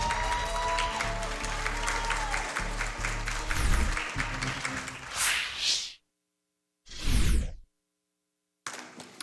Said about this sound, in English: How about another round of applause for AChocolateOrange?